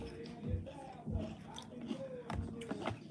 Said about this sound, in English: I know I'm crunching in your ears, baby, but I'm hungry and I'm eating this salad